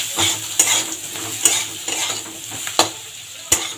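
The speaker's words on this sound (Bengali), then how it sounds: "হলুদটা দিয়ে একটু নাড়াচাড়া করে এর মধ্যে অল্প করে আমি চিনি দিয়ে দেবো।" A pan mixture with turmeric and a little sugar is stirred while frying for a flat-bean paste dish, with a soft sizzle under sharp, rhythmic scrapes and clinks of a utensil against the pan, close up and with no speech.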